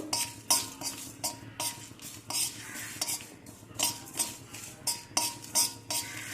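Whole cumin seeds roasting in a pan are stirred with a metal spoon, giving steady rhythmic scrapes and clinks about twice a second, close and clear, with a faint sizzle beneath and no voices.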